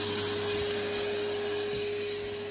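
Steady, loud vacuum cleaner drone up close as it sucks water out of a Bosch/Siemens dishwasher drain pipe, with faint slurping dips in the low end.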